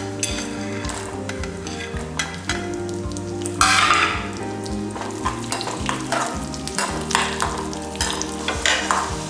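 Raisins, after cashews, sizzle in hot fat in a pan for Kerala parippu pradhaman payasam, a steady close frying hiss with repeated scrapes and light clinks of a spoon against the pan, no voices.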